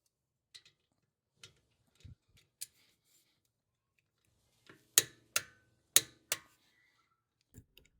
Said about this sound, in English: Now I'll torque these to 25 foot-pounds